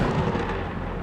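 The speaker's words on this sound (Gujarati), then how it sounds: "એક સવારે વાદળના ગડગડાટથી જંગલના બધા પ્રાણીઓની ઊંઘ ઉડી ગઈ" Thunder rumbling in an animated Gujarati story: a dense, broad, steady low roar filling the whole short stretch with no voices.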